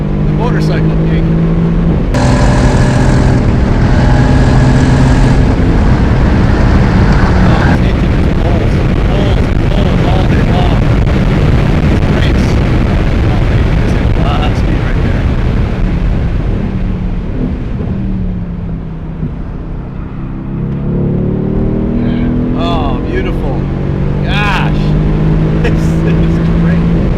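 A 2018 Mercedes-AMG GT R on a racetrack lap, its engine roaring loudly and climbing through revs, with crisp gear shifts breaking the pitch, wind buffeting over it and occasional talk.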